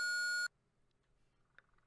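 A phone gives a single steady electronic beep in the horror video game Home Sweet Home, loud and about half a second long, then cuts to near silence with faint ambient noise.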